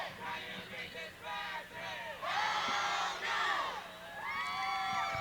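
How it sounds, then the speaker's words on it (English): Crowd at a 1987 East Brunswick high school night football game against Edison at J. Doyle Field, loud continuous cheering and shouting from many voices with whoops and surges of yelling filling the stands. "The same nice crowd that you get for a night game here at East Brunswick's J. Doyle Field."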